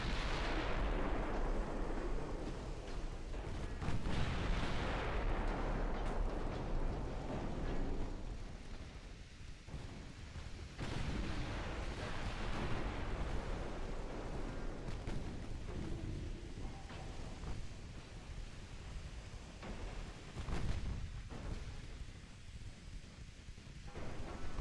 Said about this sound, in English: These battleships are very efficient at burning people down with their secondaries.